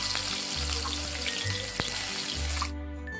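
Ground masala paste fries in oil with a dense, crackling sizzle that fills the pan, soft background music beneath, until the hiss drops away abruptly near the end.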